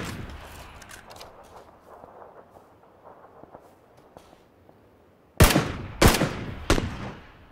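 Video game gunfire: scattered faint shots crackle in the background, then three loud, sharp close-range bursts ring out in quick succession near the end.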